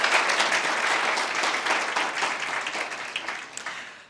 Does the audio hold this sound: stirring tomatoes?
no